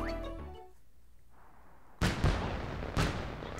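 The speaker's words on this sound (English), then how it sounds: "Fireworks." Fireworks in the video game Super Mario Party go off as a couple of sharp, booming bursts with crackling tails, following a short fading musical jingle.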